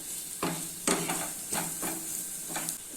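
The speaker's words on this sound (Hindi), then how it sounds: "मसालों को मीडियम फ्लेम पे 1 से 2 मिनट तक भून लेते हैं" Spices for mutton keema roast in a pan over a medium flame, with a continuous sizzling hiss and several scraping strokes of a spoon stirring at irregular intervals.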